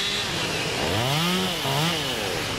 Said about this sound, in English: There's a man dangling from a rope, using a chainsaw to hack out weedy, woody plants from the cliffs around Minnehaha Falls.